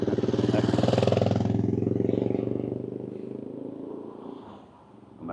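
A motorbike passes close by near a bridge in Innisfail, Australia, its engine loud at first with a buzzing putter, then fading away into the distance.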